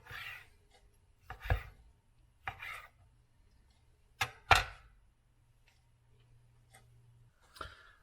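A knife slicing through cooked bison tri-tip from an Oklahoma Joe Longhorn smoker, several separate short cutting strokes on a board with quiet pauses between them.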